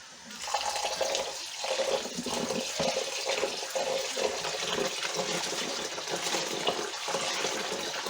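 Cold water is poured off rice being washed for Uzbek plov, a steady gushing and splashing stream that runs continuously at close range without talk.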